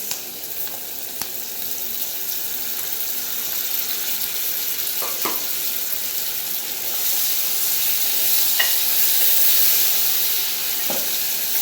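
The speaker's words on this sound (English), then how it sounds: "add my tomatoes" Chopped tomatoes sizzling and frying in a pot for pilau rice with meat, a steady bright crackle with occasional stirring clinks, close and continuous with no talk.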